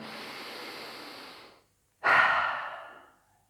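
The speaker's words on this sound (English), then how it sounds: "inhale deeply through the nose and let it out through the mouth" A slow, deep cleansing breath, drawn in through the nose and let out through the mouth during a yoga stretch session: a soft, steady inhale, a short pause, then a louder, fuller exhale that fades away, close and alone.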